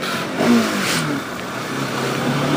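Bajaj Pulsar 200 NS motorcycle engine revving briefly, a mid-pitched throttle blip rising and settling, fairly close and alone with no talk.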